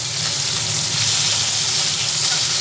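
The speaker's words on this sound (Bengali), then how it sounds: "মাছগুলো একটা দিক ভাজা হয়ে যাক, তারপর উল্টে দেবো" Bata fish fry in hot oil with a loud, dense, continuous sizzle that hisses evenly and stays close and steady throughout, with no voices.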